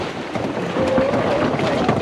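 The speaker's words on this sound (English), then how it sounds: "It's windy." Steady wind buffets the microphone with a broad, rushing roar, loud and continuous for the whole moment.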